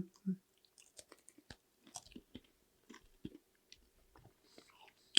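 Someone chews a crunchy snack up close, with a run of sharp, irregular crunches and bites separated by quiet pauses.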